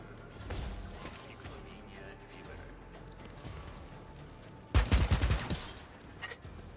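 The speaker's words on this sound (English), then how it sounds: "They just love shooting each other." A short, loud burst of rapid gunfire in the Warhammer 40k: Dark Heresy video game, several quick shots cutting through a low, busy background of game ambience.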